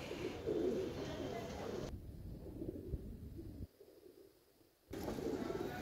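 A male long-clawed pigeon coos while held in the hand, a few soft, low throaty coos close by, with brief pauses of quiet between them.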